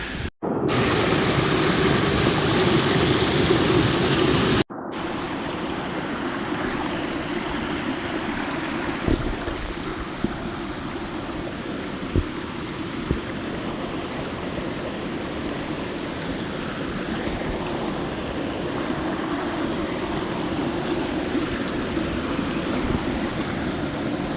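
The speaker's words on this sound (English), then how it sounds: "I'm jumping across the rocks, across this little river and stuff." A small mountain river in the Smoky Mountains runs over rocks, making a steady broadband rush of water that stays loud and continuous throughout, with a few brief knocks and no talking.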